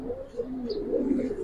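Giribaz pigeons of the Palla line coo in a loft, a steady low warbling murmur of several birds running throughout at moderate closeness, with a faint higher chirp midway.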